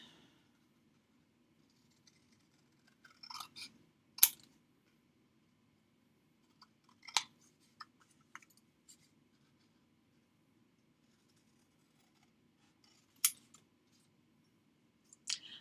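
Scissors trimming a paper card, heard as a few short, sparse snips in small clusters separated by quiet pauses, close and fairly faint, with no one talking.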